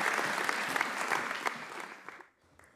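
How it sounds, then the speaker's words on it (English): An audience at a feminist climate academy event claps for a speaker being welcomed to the stage, a full burst of applause that thins and fades out near the end. "May we have a big round of applause, everyone, for Joyita Gupta"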